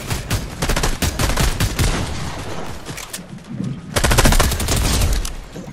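Rapid automatic gunfire in the video game Fortnite, loud dense bursts of shots with a short lull before a second heavy burst, close and continuous.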